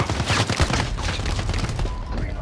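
Rapid automatic light machine gun fire in Call of Duty: Modern Warfare, a dense continuous burst of close shots with no pauses.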